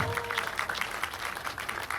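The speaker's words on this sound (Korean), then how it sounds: "아래 큰 박수 부탁드립니다." Wedding guests applaud after a duet song, a steady, fairly quiet wash of many hands clapping that continues through the whole moment.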